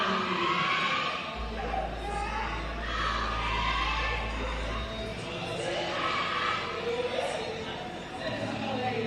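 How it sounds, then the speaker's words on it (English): A boxer's cheering section at an August 2019 Boxing 4 Peace event shouts and cheers from the crowd, a busy rolling roar under a commentator's nearby voice, with a low hum in the background. "Sounds like his cheering section is taking over."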